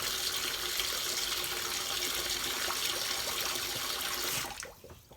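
Water runs steadily into a sink, a continuous splashing rush that stops abruptly near the end, leaving a few faint drips.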